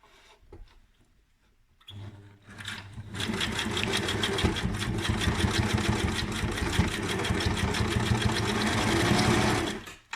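A sewing machine stitches a fabric face mask, starting after a quiet moment and then whirring steadily with a fast regular needle clatter that runs for several seconds before stopping abruptly.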